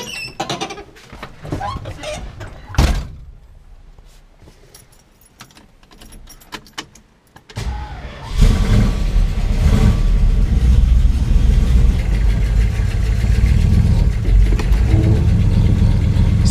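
A Dodge Dart with a carburetor problem cranks and starts, then settles into a steady, loud idle that runs on alone after a jangle of keys and some quieter handling sounds.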